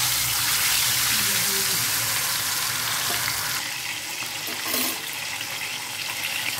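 Rupchanda (pomfret) fish deep frying in plenty of hot oil: a loud, dense, continuous sizzle and crackle close by, steady throughout with a slight swell midway.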